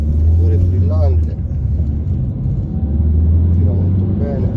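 Ford C-Max engine during a test drive, a loud, steady low rumble from inside the moving car, with someone talking throughout.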